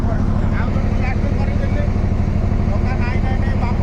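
A motor launch engine drones steadily and loudly on the Baitarani River, a continuous low rumble from the boat's deck with a voice singing faintly over it.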